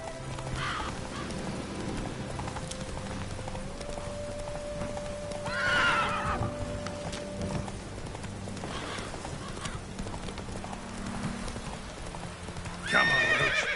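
In The Witcher 3 video game, a horse gallops with steady clip-clop hoofbeats beneath a constant ambient bed, letting out whinnies and neighs now and then along the way.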